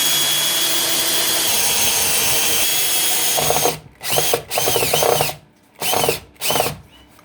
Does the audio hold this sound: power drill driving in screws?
yes